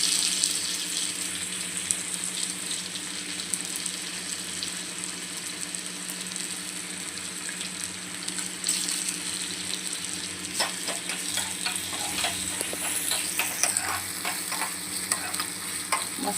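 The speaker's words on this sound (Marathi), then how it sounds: "आधी मी राई जिऱ्याचा तडका देते आणि मग कांदा घालते" Onion frying in a mustard seed and cumin tempering, a steady close sizzle with stirring and scraping clicks growing busier toward the end, no talking.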